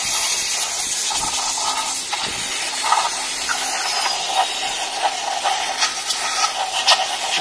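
Carburetor cleaner solvent sprayed onto a Volkswagen Beetle engine flywheel, a steady aerosol hiss with short irregular bursts and faint metallic clicks, close and fairly loud, no talking.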